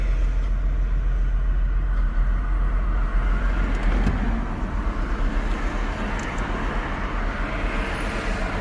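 A Chrysler 300C with starting trouble pulls forward on a busy road, its low engine rumble and tire roar steady and close, with faint traffic around and no talking.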